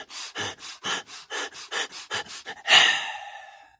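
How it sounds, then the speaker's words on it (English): Rhythmic deep breathing from a person doing a breathing technique: about eight short, evenly spaced, forceful breaths in and out, ending with one longer, heavier exhale, close and clear with no talking. "You start breathing like breathe in and breathe out."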